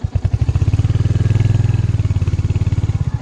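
A Royal Enfield Hunter 350 motorcycle riding off-road on a steep uphill track, its single-cylinder engine thumping in a loud, close, rapid, even pulse that swells slightly midway.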